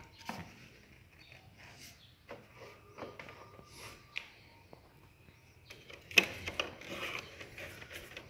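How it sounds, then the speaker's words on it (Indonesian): Faint, sparse metallic clicks and ratcheting from a tool working the headlight bolts on a Suzuki Shogun 125 motorcycle, with a sharper clatter near the end. "langsung saja kita buka baut yang ini dua ini"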